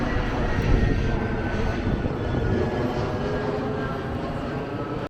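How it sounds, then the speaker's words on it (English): Airplanes passing overhead near an airport beside a hotel in Lake Nona, Orlando, a steady loud engine roar filling the whole stretch with broadband rumble, heard outdoors without talk. "this hotel is right by the airport, so there's tons of planes flying by"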